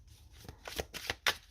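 Tarot cards are laid down one after another, four or five soft, close papery slaps and flicks within a short quiet stretch.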